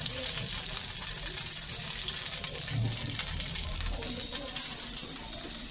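A dosa sizzles on a hot pan, a steady crackling hiss that runs at an even, moderately quiet level throughout, with a voice talking faintly over it.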